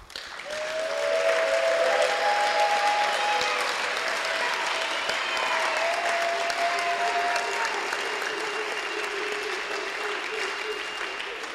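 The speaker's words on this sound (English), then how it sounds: "How about a round of applause for these coaches?" A large crowd claps steadily for the coaches at a 2024 winter sports banquet. The full, even applause lasts about ten seconds, with a few faint whistles and voices on top before it slowly tapers.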